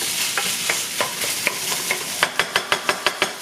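Pie filling seasoned with pepper being stirred in a pan, a soft sizzle under a run of scraping spoon strokes that speed up into quick, regular knocks toward the end.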